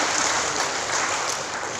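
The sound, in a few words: audience applauding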